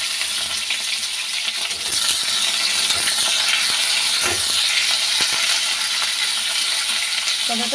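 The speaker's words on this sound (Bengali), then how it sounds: "তেলের মধ্যে পাঁচ ফোড়ন দিয়ে দিয়েছি আর পটলগুলো এক এক করে ছেড়ে দেবো" Pointed gourd pieces with panch phoron spices sizzle in hot oil, a steady close frying hiss running the whole time, with small clicks and taps of pieces dropping in one by one and no talking.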